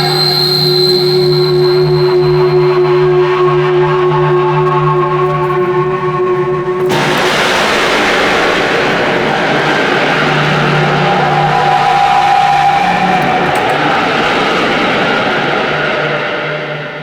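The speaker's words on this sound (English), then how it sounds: "I just make this crazy guitar feedback" Electric guitar noise and feedback used as techno ambience: sustained ringing tones give way after a sudden burst to a loud, dense wash of noise that holds steady before easing off at the end.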